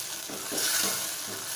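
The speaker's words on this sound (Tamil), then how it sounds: "தக்காளி போட்டு தக்காளி நல்லா நெய்யற மாதிரி வறுக்கணும்" Chopped tomatoes fry in a pan for a village-style dried fish curry, giving a steady close sizzle with a few soft stirring scrapes underneath.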